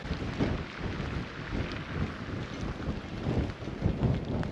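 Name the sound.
wind in Reykjavik, Iceland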